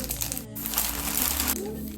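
A plastic packet crinkles steadily and close up as a gift is unwrapped, with someone speaking over the rustling.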